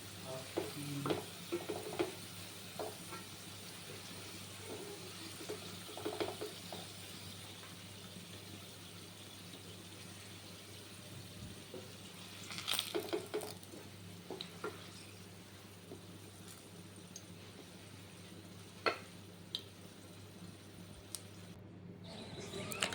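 Onions fry slowly for biryani beresta, making a faint, steady sizzle with scattered stirring clinks and scrapes and a brief louder burst of stirring partway through, with no voices.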